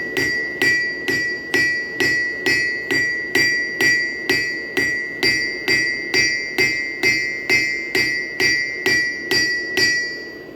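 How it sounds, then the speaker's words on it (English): Steady, evenly spaced hammer blows ring out as a blade is forged on an anvil, about two strikes per second, each with a bright clang and a short ringing decay, close and loud. "I come in on the angle here, up front, with my rounding side of the hammer to stretch it out"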